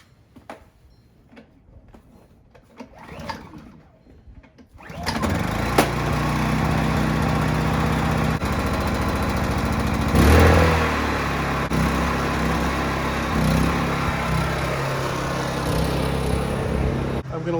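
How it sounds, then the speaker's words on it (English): A Honda generator engine starts up and runs at a steady, loud drone, with a brief surge in pitch partway through, preceded by a few seconds of quieter handling sounds. "I'm going to leave the Honda generator running because it hasn't been running in a while"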